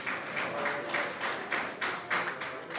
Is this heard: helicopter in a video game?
no